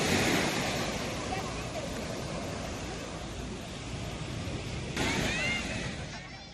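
Calm ocean waves wash onto Sanur Beach in Bali in a steady, broad surf wash, with a louder surge near the end and wind buffeting the microphone throughout.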